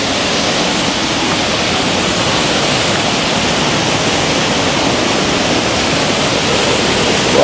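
River water flowing on a sunny day, a loud, steady broadband rush that stays even from start to finish with no voices over it.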